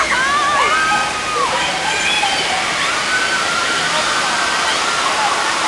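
Water surges in a loud, rushing torrent during the tidal wave effect on Universal Studios' Earthquake ride, a steady roar with people's voices audible over the flood.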